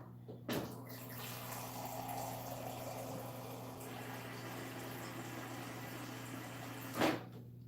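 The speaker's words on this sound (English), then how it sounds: "So I'm going to have to fill this container again." Hot water runs steadily into a container in a kitchen, a continuous hiss and hum with a soft clunk near the start and another near the end.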